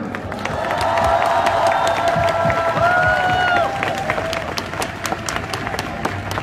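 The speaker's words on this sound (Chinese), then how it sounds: "我们为今天鼓掌喝彩" A committee room in Taiwan's legislature erupts in applause and cheering after a marriage equality bill passes, with sustained clapping, a few whistles, and crowd noise filling the room for several seconds.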